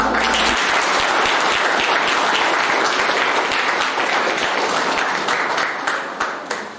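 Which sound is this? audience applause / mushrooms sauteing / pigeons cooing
audience applause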